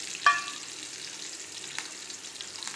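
Garlic fries in hot oil in a pan, a soft continuous sizzle with a single brief louder crackle at the start, close but fairly faint, with no talking.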